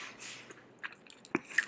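Close, soft crunching bites of a crispy fried fritter, a few brief crackly chews spaced irregularly over quiet.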